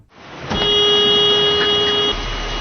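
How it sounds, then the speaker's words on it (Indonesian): A car horn sounds one long, steady tonal honk lasting about a second and a half, loud and close, over a low background rumble. "datang ke tempat klakson mobil yang berbunyi itu"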